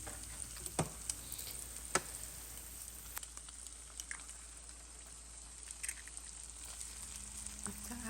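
Beaten eggs hit a hot pan with chili flakes while shrimp fried rice is being made. The result is a steady, fairly faint sizzle with scattered small pops and crackles and no talking.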